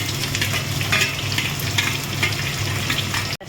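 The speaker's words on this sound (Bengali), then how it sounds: "পেঁয়াজটা ভাজা হচ্ছে" Chopped onion fries in hot oil for a home-cooked chicken dish, a loud, close, continuous sizzle with faint stirring that cuts off abruptly just before the end.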